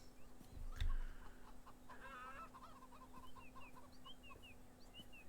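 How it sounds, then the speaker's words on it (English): Video game chickens cluck in soft, scattered bursts over a steady low hum, with a brief louder thump near the start and no talking. "Oh, they weren't crows, they were chickens"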